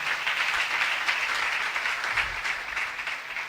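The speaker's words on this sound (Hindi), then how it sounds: "आओ उन शहदा के लिए भी जोरदार तालियां बजाएं।" Church congregation clapping loudly in honour of martyrs, a dense, sustained round of applause from many people that fades slightly toward the end.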